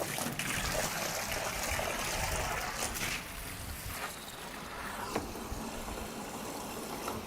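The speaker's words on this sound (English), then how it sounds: "So that one's filling up now." Water from a pipe pours steadily into a fry pond, a continuous rushing trickle close by with a few faint knocks.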